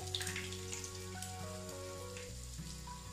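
Slices of egg-dipped bread fry in hot oil with a soft, steady crackling sizzle, quiet and brief, with no one talking.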